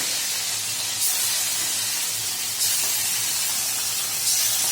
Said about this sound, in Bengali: মাছগুলোকে একটু একটু ভেজে নিচ্ছি মাছগুলোকে তেলে বেশি ভাজবো না